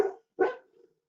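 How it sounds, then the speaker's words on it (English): A dog gives two short barks indoors, the second followed by a faint trailing whimper, fairly quiet and with no talk over it. "Apologize for Lacey barking there"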